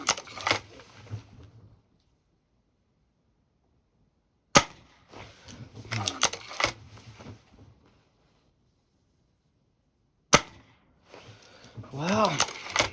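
Crosman Magfire Extreme air rifle firing during a timed shooting test, sharp cracks spaced several seconds apart, each followed by clicks and mechanical handling noise, with a short burst of talk near the end.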